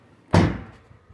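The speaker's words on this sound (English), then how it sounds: "when you're done, just open the door up and you can wipe off the excess right along the door edge" The door of a 2022 Ford Maverick pickup truck shuts with a single solid, close thunk that fades quickly into quiet.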